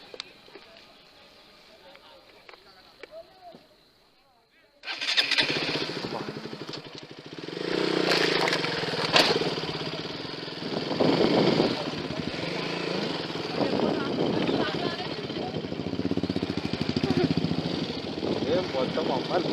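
After a quiet spell with faint sounds, a motorcycle engine starts abruptly and settles into a steady rumbling idle close by during a breakfast ride, while people talk over it.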